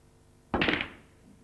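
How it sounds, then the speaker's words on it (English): A snooker trick shot with a single sharp click of cue ball striking the red, then a brief rolling thump as the red drops into the centre pocket, close and isolated in a quiet room. "I'm going to try and make the red away from the cluster and into the centre pocket."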